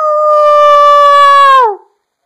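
A husky gives one loud, close, sustained howl on a steady pitch that slides downward and cuts off, followed by silence.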